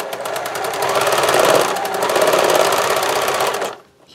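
Sewing machine stitching fabric, a fast steady mechanical rattle running close and loud for several seconds before stopping abruptly.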